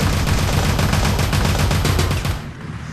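Dense, rapid gunfire from automated zombie traps in the game Teleglitch, a loud continuous rattle of overlapping shots that cuts off abruptly near the end.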